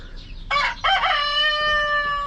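A Rhode Island rooster crows close and loud, giving one full cock-a-doodle-doo with a short broken opening and a long sustained final note.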